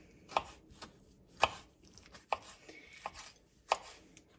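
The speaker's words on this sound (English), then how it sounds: "time to dice up these beautiful tomatoes. So I'm just going to do medium dices." Knife dicing tomatoes into medium cubes on a cutting board for a coconut shrimp curry: about five sharp, close chops at uneven intervals, with no talking.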